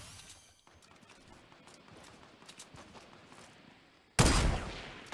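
Video game gunfire in a squad battle, with quiet scattered shots and clatter for several seconds, then one sudden loud blast near the end.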